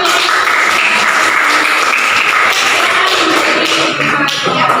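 A classroom audience claps in a dense, sustained burst of applause that stays loud and even throughout, with no talking over it.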